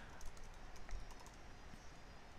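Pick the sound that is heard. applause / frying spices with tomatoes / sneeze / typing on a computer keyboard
typing on a computer keyboard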